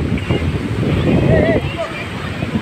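Sea waves washing onto a sandy beach at Vizag, a continuous rushing surf with wind noise on the microphone, fairly close and loud with no clear talk.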